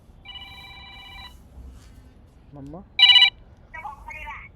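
A mobile phone rings with a steady electronic ringtone tone, then a warbling tone and a short loud chirp, with a voice speaking briefly between the rings.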